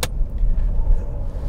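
A 1980s Mercedes-Benz C126 560 SEC coupe rolls along the road, its engine giving a deep, steady low rumble heard from inside the cabin after a short sharp click at the start.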